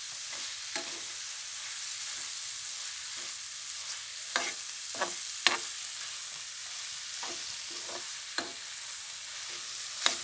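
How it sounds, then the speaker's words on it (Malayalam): Food is stirred in a frying pan with salt added, a steady sizzle underneath and scattered scraping clicks of the utensil against the pan, close and fairly quiet with no voices. "നന്നായിട്ട് ഇളക്കണം"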